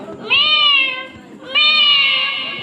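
A schoolchild imitates a cat's meow twice, two long drawn-out nasal mews, close and clear, performed as mimicry at a residential school event.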